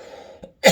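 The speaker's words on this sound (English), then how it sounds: "still have the COVID cough." A low murmur trails off, then a single sharp, loud cough from a lingering COVID cough bursts out close by.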